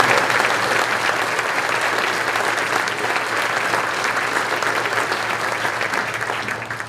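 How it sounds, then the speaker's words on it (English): A dinner crowd gives a full, steady round of applause, dense clapping from many people filling the room at an even level with no talk above it. "So can we give a round of applause for our"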